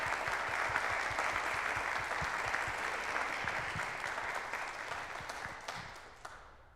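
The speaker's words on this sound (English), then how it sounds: "I'm sure we want to applaud after all of that." An audience applauds after a talk on loneliness, hope and mental health, a full, even wash of clapping from many hands that holds steady and then slowly tapers off.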